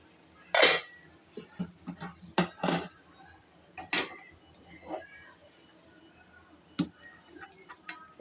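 A pot of okra fry being lifted off a gas stove after the flame is turned off: a series of sharp metallic clanks and knocks, close and irregular, with quiet gaps between them and no talking.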